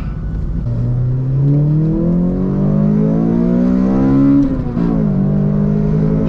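A Toyota Corolla XRS with a Magnaflow exhaust revs hard and climbs in pitch through a pull, a deep throaty exhaust roar rising steadily, dipping briefly, then droning on loud and close.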